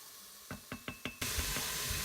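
Four light knocks of a utensil against the Instant Pot come first, then Worcestershire sauce hits the hot pot on sauté and breaks into a sudden, steady sizzle that holds to the end.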